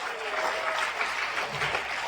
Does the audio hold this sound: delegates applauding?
yes